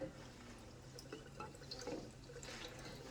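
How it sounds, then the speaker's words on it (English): All-purpose cleaner is poured into a plastic foam blaster bottle for a car wash attachment, a faint, quiet liquid trickle with soft drips, low in level against room background. "we're going to pour this in there."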